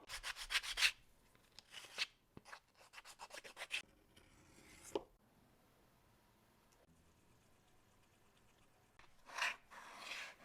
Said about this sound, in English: This is a chrome tanned leather and it doesn't really burnish well, but I decided to try it anyway.